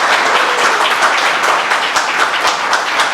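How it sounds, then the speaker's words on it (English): An award-ceremony audience applauds, a dense, steady wash of clapping holding at full loudness from start to finish with no voices standing out. "Give us one more round of applause for this wonderful event."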